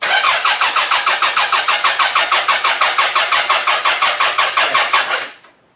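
A Toyota Camry demolition derby car cranks with the starter for over five seconds, a loud, steady rhythmic whirring chug that never catches and then cuts off abruptly.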